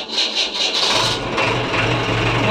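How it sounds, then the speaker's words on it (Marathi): A well-digging machine's engine is started with a key, cranking briefly and then catching into a steady, loud, close running rumble with no talk over it. "मशीन झालं आपलं चालू."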